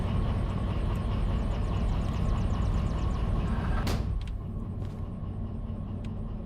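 A locomotive engine idles at 320 RPM with its cooling fans running in the Derail Valley train game, giving a loud, steady low rumble and whir that drops slightly partway through, with faint clicks and no speech.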